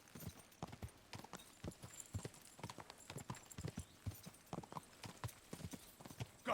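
Horse hooves gallop in Kingdom Come Deliverance 2, a steady rapid clip-clop of thuds over ground, fairly faint and continuous throughout.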